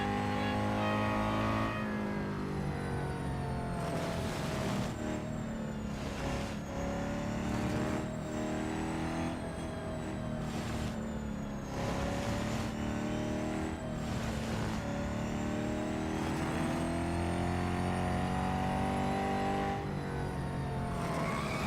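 In Real Racing 3, the engine of an Acura ARX-06 race car revs hard and continuously, pitch climbing and dropping through repeated gear shifts, loud and close for the whole stretch.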